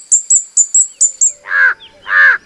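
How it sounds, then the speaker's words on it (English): Crow calling nearby: a quick run of six short, high clipped notes followed by two loud, harsh drawn-out caws, clear and close with no background noise. "Crows are large, intelligent birds that have black feathers"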